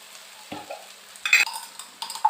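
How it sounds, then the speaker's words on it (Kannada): A pan of capsicum, onion, tomato, ginger, garlic, green chilli and curry leaves is stirred as it fries, with a few short scraping strokes and light sizzling, close and without talk. "ಕ್ಯಾಪ್ಸಿಕಮ್ಮು, ಈರುಳ್ಳಿ, ಟೊಮೆಟೊ, ಹಾಗೆ ಶುಂಠಿ, ಬೆಳ್ಳುಳ್ಳಿ, ಕಾಯಿ ಮೆಣಸು, ಕರಿಬೇವೆಲ್ಲವನ್ನು ಹಾಕಿಬಿಟ್ಟು ಚೆನ್ನಾಗಿ ಫ್ರೈ ಮಾಡ್ಕೋಬೇಕು."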